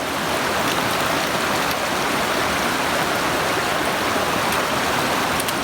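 Creek water rushes steadily and loudly throughout during a backpacking creek crossing in the Utah wilderness, a dense continuous wash with no pauses.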